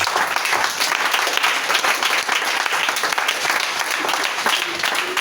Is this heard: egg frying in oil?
no